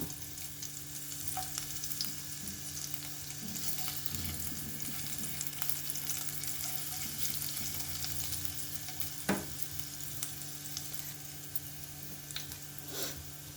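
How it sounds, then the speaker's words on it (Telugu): Grated ginger and garlic fry in a spoonful of ghee for a ragi vegetable soup, giving a steady close sizzle with light stirring scrapes and a couple of brief clinks, and no voices. "ఒక స్పూను నెయ్యి వేసామండి. అందులో అల్లం తురుము, వెల్లుల్లిపాయ తురుము,"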